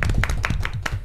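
Audience clapping at a televised sailing-race show, quick crisp claps in a steady patter at close range, brief and fairly loud with little else around.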